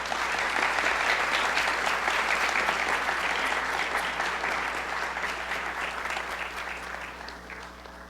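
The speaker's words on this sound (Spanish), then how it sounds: "Démosle un fuerte aplauso." A conference audience applauds steadily, a dense wash of many hands clapping that holds strong and then slowly fades toward the end.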